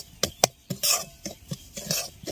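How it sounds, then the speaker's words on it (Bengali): Semolina frying in mustard oil is stirred with a metal spoon against the pan, giving sharp scraping clacks and brief rasping strokes at an irregular pace, close and fairly loud, with only a faint sizzle and no speech. "তবে আমি সরষের তেল দিয়ে ভাজলাম"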